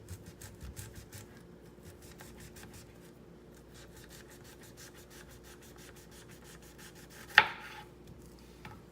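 A knife slices onions into rings on a board with quick, evenly spaced cuts in a steady rhythm, fairly quiet and close, with one sharper knock near the end.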